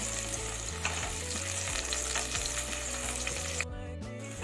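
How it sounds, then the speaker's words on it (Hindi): Onions fry in a pan with a dense, even sizzle and light crackle that continues close and loud for several seconds, a low hum underneath and no voices. "ऑनियन हमें अच्छी सी फ्राई करनी है, बस गोल्डन होने से जो फर्स्ट स्टेज पहले होता है ना वैसी पूरी हो जानी चाहिए ऑनियन"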